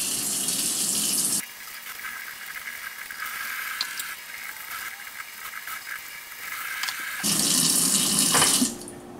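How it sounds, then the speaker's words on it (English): Water from a kitchen tap rinsing pork ribs, a loud steady hiss at the start and end with a quieter, softer splashing stretch in between as the ribs sit under the stream. "So I'm gonna turn the water on right now and rinse them off."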